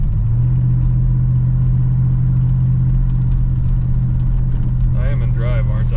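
A 1966 Pontiac Grand Prix barn find runs close by, its engine holding a steady low drone with a rise near the end as the automatic transmission shifts. It plays alone, with no talk over it.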